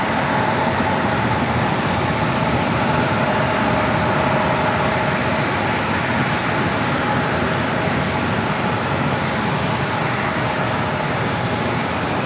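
An Airbus A321neo airliner departs San Diego airport, its engines a loud, steady, broadband roar holding constant throughout, with no voices over it.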